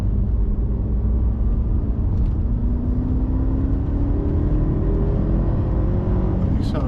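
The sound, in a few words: 2016 BMW M5 F10 accelerating hard on track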